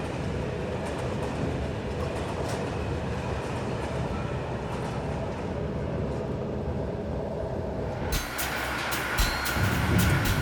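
A train on the Siberian traverse runs along the rails with a steady, loud rumbling roar and continuous rattling of the carriages, heard from inside, shifting to a brighter, clattering tone near the end.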